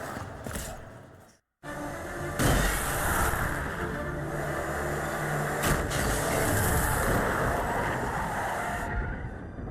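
A car engine in the video game Alan Wake revs up and drives off, a loud steady rumble that starts after a brief silent gap, swells and holds, with a sharp surge partway through.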